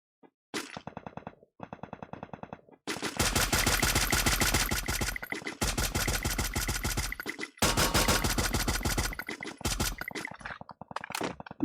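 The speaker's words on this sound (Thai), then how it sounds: "ยิงอะไรกันวะไม่ยิงผมเลย" Automatic gunfire in the Free Fire video game comes in loud, dense bursts: a couple of short opening volleys, then long sustained strings of rapid shots broken by brief gaps.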